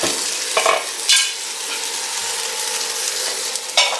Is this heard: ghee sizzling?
yes